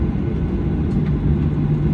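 Steady low rumble of a Delta Boeing 737-900ER's engines heard from inside the cabin at Atlanta before takeoff, a loud, continuous drone with a faint tonal hum.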